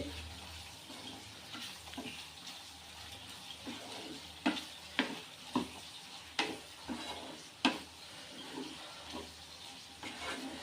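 Gongura boti and chicken curry with masala is stirred in a pan, with a spoon scraping and knocking in irregular clicks over a soft, continuous sizzle.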